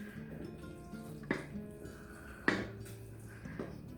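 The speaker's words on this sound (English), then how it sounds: "While that's getting hot, we'll put our mixture into our baking dish." Squash casserole mixture is scooped and scraped into a 9 by 13 baking dish, giving a few soft wet thuds and clinks at irregular intervals over quiet kitchen background.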